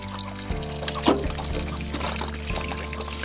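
Water pours and trickles close by while dishes are washed outdoors, a steady splashing stream that runs alone with a brief louder gush early on.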